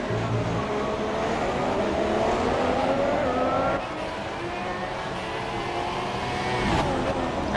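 A loud Formula 2 race car engine screams through a flying lap at Singapore in a racing game, its pitch climbing through the gears with brief dips at the shifts.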